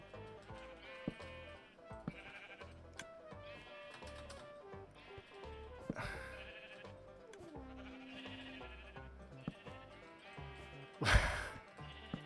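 Sheep bleating on a farm in a video game, with repeated bleats over steady game music and sound effects, plus a couple of louder bursts.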